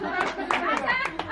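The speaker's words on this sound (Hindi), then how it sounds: "सारे लोग ताली का साथ बजाए" Scattered clapping from a small crowd at a Christmas celebration, several uneven hand claps mixed under continuous chatter and a speaking voice, brief and fairly close.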